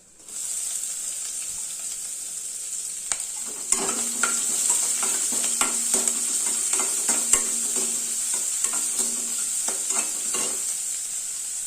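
Onion with urad dal, chana dal and broken dried red chillies hisses steadily in hot oil in a pan, while a spoon scrapes and clatters in irregular strokes close by.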